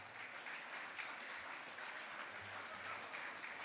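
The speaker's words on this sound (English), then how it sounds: "A round of applause for our top 10 at the halfway mark." An audience at a racing awards night applauds the top 10 at the halfway mark, a continuous even wash of many hands clapping, quiet and distant, with no talking over it.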